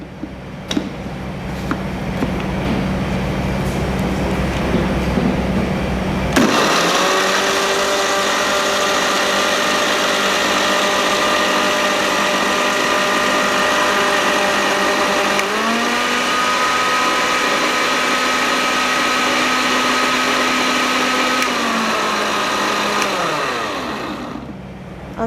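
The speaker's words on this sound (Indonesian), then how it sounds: "kemudian kita blender hingga halus" Kitchen blender pureeing garlic with a little water: a loud, steady motor whine kicks in abruptly, holds for about seventeen seconds with small pitch dips, then winds down.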